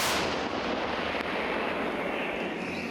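A single heavy 155 mm howitzer blast booms at the start, followed by a long rumbling roll that echoes and slowly fades into outdoor noise.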